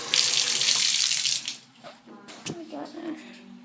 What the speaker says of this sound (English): and then here's your faucet